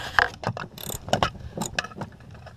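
A hand ratchet loosens the seat bolts on a Lexus GX, its clicking pawl sounding in several quick, close bursts with short pauses between strokes.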